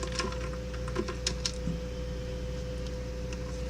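Computer keyboard keys tapped in short irregular bursts while typing commands on an Ubuntu machine, fairly faint over a steady electrical hum, with no speech.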